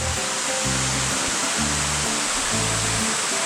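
A waterfall on Chilbosan mountain pours in a dense, continuous roar, close and loud, with no voices over it.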